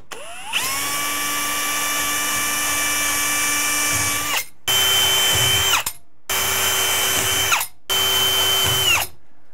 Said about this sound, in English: now I'm gonna pre-drill where those were punched